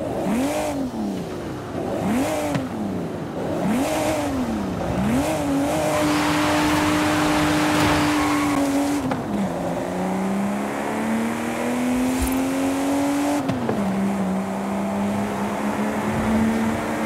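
A BMW 850CSi with a V12 engine in the Forza Horizon 5 racing game, revving in several rising and falling bursts, then holding steady drones with gear shifts, loud and continuous with a smooth, older-sounding tone.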